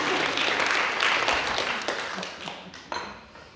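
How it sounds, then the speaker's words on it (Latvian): Audience applause at a Latvian event, a burst of clapping that swells early and gradually thins, with a few sharper individual claps near the end. "Aplausi rūķiem."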